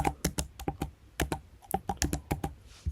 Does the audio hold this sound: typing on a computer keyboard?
yes